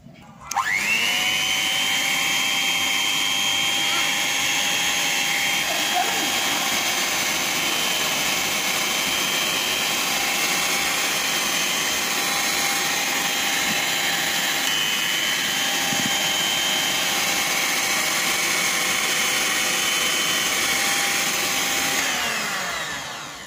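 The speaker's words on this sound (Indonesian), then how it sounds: "lalu bahan-bahan ini kita mixer sebentar." Electric mixer whirring steadily as it blends sweet potato dough ingredients, a loud, continuous close-up motor drone that starts abruptly and runs unbroken for over twenty seconds.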